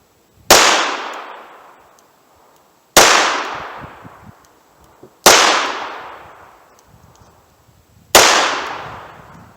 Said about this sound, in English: I'll go for some center mass shots with these 200 grain rounds